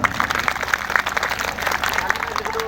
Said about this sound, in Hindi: तो इनके लिए एक बार और तालियां होना चाहिए।